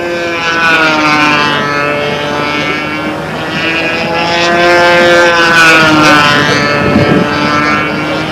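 A model airplane flies inverted laps, its small engine droning steadily with rising and falling pitch as it circles past, loud and continuous with no talk.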